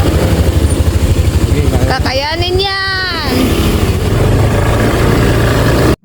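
A motorcycle engine idles loudly and steadily close by, its low throbbing running through the whole stretch while someone speaks briefly over it, then cuts off abruptly at the end.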